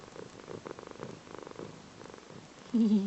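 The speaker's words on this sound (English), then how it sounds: "Can you hear her purring?" Soft, steady purring up close, a low rhythmic rumble pulsing with each breath, joined near the end by a brief louder sound.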